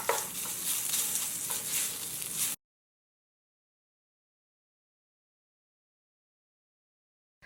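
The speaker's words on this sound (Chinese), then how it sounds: "倒掉锅内多余的油，留底油下猪肉炒制" Pork stir-fries in a little leftover oil in a wok for mapo eggplant, a bright, close sizzle that lasts a couple of seconds before cutting to silence.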